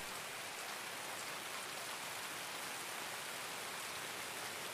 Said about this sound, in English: Gotta get out of the rain. It's so loud.